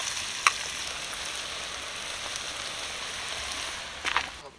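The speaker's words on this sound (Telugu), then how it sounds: "ఈ విధంగా మనం ఆయిల్లో వేయించుకోవడం జరిగింది" Pieces of bitter gourd (boda kakarakaya) fry in oil for a biryani, giving a steady, dense sizzle with a couple of brief sharper crackles and spits near the start and end.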